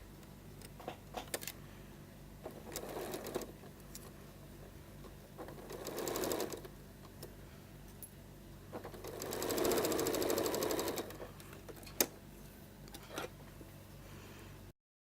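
A sewing machine stitches quilt binding fabric in a rapid mechanical patter, running in several bursts separated by pauses with small clicks and handling noises.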